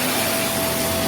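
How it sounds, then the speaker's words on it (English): A Vax Mach Air upright vacuum cleaner runs on low pile carpet, giving a brief, loud, steady suction roar with a faint motor hum underneath. "move it over to the low pile carpets and the suction is great"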